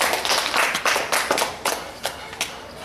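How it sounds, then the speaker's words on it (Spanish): Scattered claps from a small group greet a guest being introduced on a playful homemade local news show, about eight uneven, fairly close claps over a few seconds with no talking. "¡Aplauso!"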